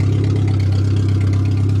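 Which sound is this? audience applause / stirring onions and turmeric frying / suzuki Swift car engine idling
suzuki Swift car engine idling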